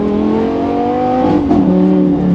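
A sports car engine revs close and loud, a strong steady tone rising in pitch, dipping briefly, then settling at a lower drone, with no talk over it.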